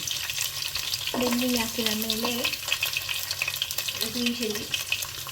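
Garlic sizzles steadily in a hot pan already holding cumin, with a dense, continuous frying hiss throughout and a couple of brief tonal, voice-like sounds rising above it.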